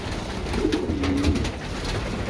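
Pigeons in a loft coo at feeding time, with a low, soft, rolling coo sounding nearby over a busy background of rustling and wing and foot noise.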